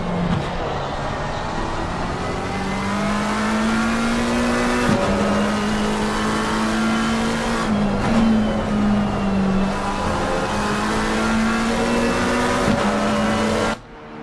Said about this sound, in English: So Lawrence will try and just catch a little bit of a toe here from the Porsche in front